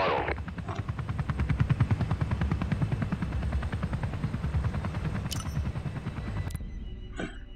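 A Comanche attack helicopter in a flight video game, its rotor chopping in a steady rapid thump with engine whine, loud and continuous throughout, ending with a couple of brief sharp electronic tones.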